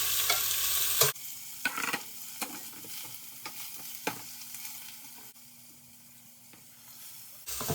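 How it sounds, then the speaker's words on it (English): Seasoned beef for a stew hits a smoking-hot pan and sears with a steady, close sizzle, sharp crackles and pops breaking through, easing slightly toward the end. "I'm starting to see the smoke coming up. I'm gonna add the beef."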